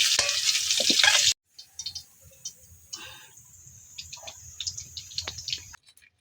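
Potatoes frying in hot oil in a pan until browned: a loud, hissing sizzle at first that drops away abruptly, leaving softer scattered crackles and pops.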